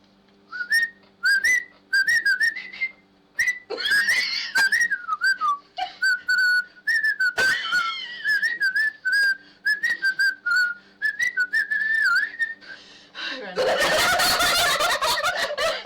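A person whistles a lively, warbling tune in short bursts and trills, close and clear, ending with a burst of breathy noise.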